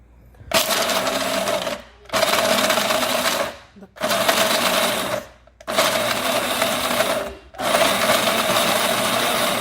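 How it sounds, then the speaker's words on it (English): A blender grinding almonds, cashew nuts and walnuts runs in five loud whirring bursts separated by brief stops, close and steady, with a tonal motor whine. "So I'm blending the almond, the cashew nut, and the walnut."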